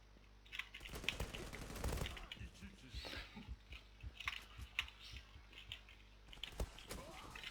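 Gunfire in the video game Zula, quiet and scattered: rapid clusters of shots and clicky keyboard-like taps throughout, with a voice talking at times.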